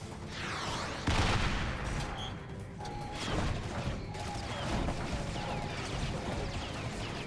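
Machine gun fire and combat effects in The Chronicles of Riddick: Escape from Butcher Bay, a first-person game: bursts of shots and a loud crash among mechanical clanks, with no talk.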